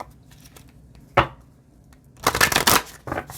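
Oracle cards from the Wisdom Over Wild Things deck are shuffled close up, a quick single riffle followed by a longer dense burst of flicking card edges and a short final flutter.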